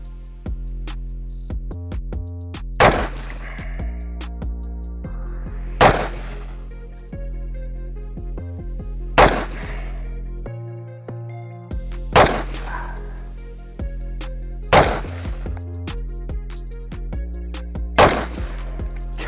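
Seven loud firearm shots from a gun fitted with a weapon-mounted Olight light, fired one at a time at a steady pace of roughly one every two to three seconds, each crack ringing out briefly.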